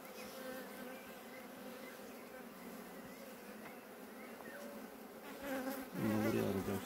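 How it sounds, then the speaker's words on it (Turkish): A dense, steady buzz of many honeybees fills the air around an opened, strong beehive, close and continuous, swelling louder toward the end with no talk over it. "Bu arı çok güçlü bir arı."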